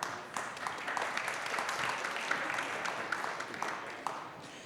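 An audience at a French photography event applauds invited guests, with moderate, steady clapping that stays somewhat distant and even for several seconds.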